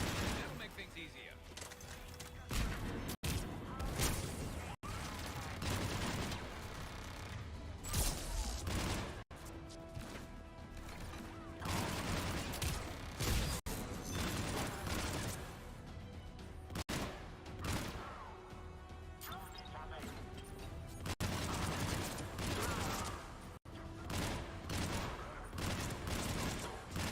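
Automatic turret gunfire in the Mass Effect 3 video game, dense rapid bursts of shots going on almost without pause for nearly half a minute, loud and close, with a voice talking over parts of it.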